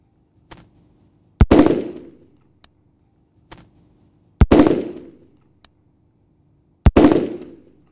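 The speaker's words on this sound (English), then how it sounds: "He's gonna fire a 3-shot group." A rifle fitted with an Aimpoint sight is fired at a range, three loud sharp cracks a few seconds apart, each with a short decaying echo. Faint clicks and clatter sound between the shots.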